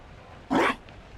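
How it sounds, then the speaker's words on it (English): A Mabari war dog in Dragon Age: Inquisition gives a single short, close bark over quiet background ambience. "You found a dog?"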